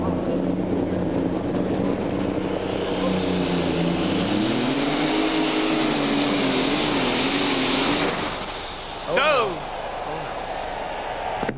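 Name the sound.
pulling tractor engine during a tractor pull run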